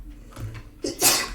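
A single sharp sneeze bursts out close by after a brief quiet intake of breath.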